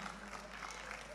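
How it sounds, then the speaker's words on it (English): Audience applause at a homecoming health and career fair, a steady wash of clapping and crowd noise for Nia Adonis throughout, with some voices mixed in. "Give her a round of applause"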